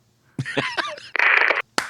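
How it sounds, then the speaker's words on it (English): A single sharp hand clap cracks out close to the mic near the end, just after a brief burst of vocal noise and a rough, hissy rush of sound. "That's the infamous clap"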